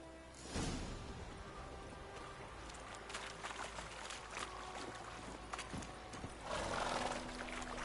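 Horse hooves galloping in The Witcher 3, a steady clip-clop rhythm at moderate distance with a whinny and shifting ambient noise, no talk.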